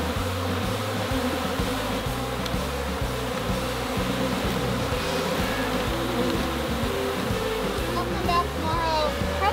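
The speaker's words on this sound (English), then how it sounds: "Do you see how many bees are in this?" Dense buzzing of many honey bees packed into a hive, a steady loud hum running continuously with no gaps, close and unbroken throughout.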